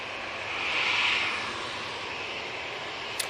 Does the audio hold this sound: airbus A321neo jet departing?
yes